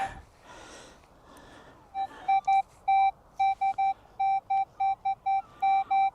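A Minelab metal detector on a beach at Benllech, Anglesey sounds a series of short, repeated electronic beeps in an uneven rhythm, loud and close, after a few seconds of quiet rustling.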